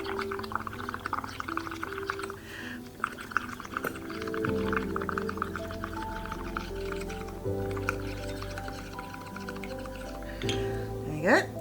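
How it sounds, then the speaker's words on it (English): Air is blown through a biro tube into a paint mixture, making steady bubbling and gurgling liquid sounds with a few sharp pops, close and continuous under a low musical backing. "I'm going to blow bubbles into the mixture and let it all cascade out and go onto the pot"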